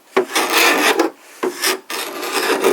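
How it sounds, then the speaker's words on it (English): Fine, smooth rasping strokes rub across the timber of an old kitchen dresser during restoration, with light pressure. Four close, even strokes are heard alone. "fine, smooth strokes. Not too much pressure, because you don't want to take the patina off the timber underneath."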